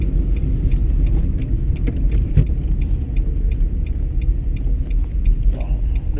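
A car in a driving lesson pulling away in second gear, its engine a steady low rumble with faint clicks and jangles inside the cabin throughout.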